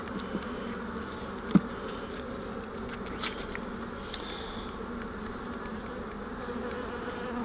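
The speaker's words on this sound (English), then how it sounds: "Smash the bee." Honeybees buzz continuously during an open hive inspection, a steady low drone around the frames with one brief sharp knock partway through; no speech.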